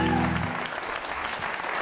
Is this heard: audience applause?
yes